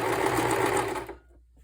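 A sewing machine stitching the corner of a fabric pillow: a steady, close, buzzing whir for about a second that stops abruptly, leaving quiet.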